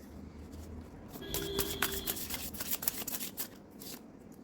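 Tarot cards being shuffled and drawn make a brief flurry of riffling and flicking snaps, fairly close, fading into lighter card rustles.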